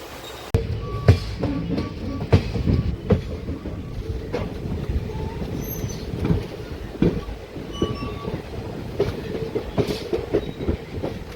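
A train on the Karaikal to Tambaram line rolls through Karaikal railway station, its wheels clattering in steady rhythmic clicks with occasional squeals, loud and close throughout.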